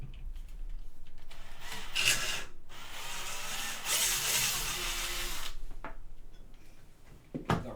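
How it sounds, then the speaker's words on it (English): A drill grinds and rasps through a 3D-printed part of a Prusa i3 Mk2 printer, drilling out a filament hole in several sustained bursts, with brief pauses between passes and no talking. "Maybe I'll just drill the hole out."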